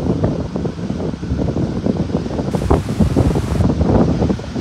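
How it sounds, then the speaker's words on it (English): Wind buffets an outdoor microphone, a loud continuous rumbling roar with gusty swells and brief hissing surges, no talk. "I'm trying to find a place where it's not as windy."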